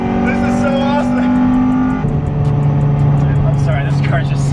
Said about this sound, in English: this car's got a fully stock exhaust other than a MagnaFlow muffler, and it sounds really nice